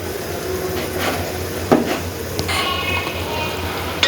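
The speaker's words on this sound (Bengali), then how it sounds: "মশলাটা ভালো করে কষিয়ে নেব।" Ginger and cumin paste frying in a pan for Bengali-style chicken khichuri, a steady close sizzle with a few scrapes and stirring knocks and no talking.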